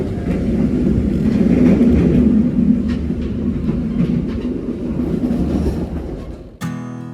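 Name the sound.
Madiun Jaya train running without stopping, heard on board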